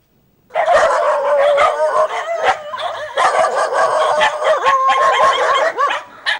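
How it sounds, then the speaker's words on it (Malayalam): Several street dogs at a shelter bark and yip almost nonstop, loud and close, with overlapping high-pitched yelps and whines after a brief silent start. "ഈ നായ്ക്കളെയെല്ലാം സുലോചന ചേച്ചി തെരുവിൽ നിന്ന് പിടികൂടിയതാണ്."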